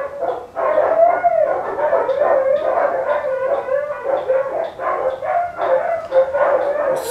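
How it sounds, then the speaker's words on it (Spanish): Neighbouring dogs near Teotihuacan bark and howl together in a loud, sustained chorus, with wavering howls running continuously under overlapping yips and barks. "Los perros vecinos siempre están ladrando."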